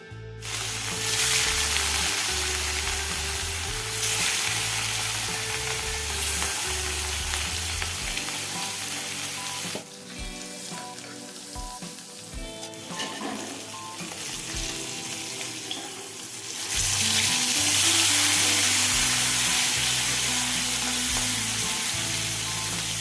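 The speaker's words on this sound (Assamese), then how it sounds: "এইফালে মোৰ তেলখিনি গৰম হৈ গৈছে আৰু এতিয়া মই দি দিম মাছখিনি।" Fish coated in salt and turmeric fries in hot oil in a wok, a loud continuous sizzle that dips for a few seconds and then surges back, with occasional stirring clatter.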